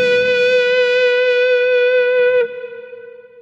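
A sustained electric guitar note on the neck pickup with reverb, through a Kemper Profiler, rings out with a bright, harmonically rich tone, then cuts off and leaves a reverberant tail that fades away.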